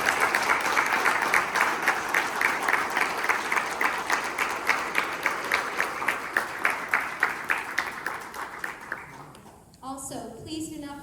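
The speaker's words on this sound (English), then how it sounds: "let's give a round of applause to all of our volunteers who made tonight happen" Applause from guests at a dinner gala and fundraiser, honoring volunteers: a sustained round of clapping with a distinct rhythmic beat that thins and fades near the end, followed by a brief voice.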